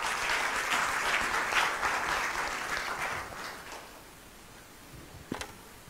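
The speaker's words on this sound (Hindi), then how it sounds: "तालियां बजा के प्रभु को धन्यवाद।" A church congregation claps enthusiastically during a sermon, the applause strong at first and then tapering off, ending with a couple of sharp isolated taps.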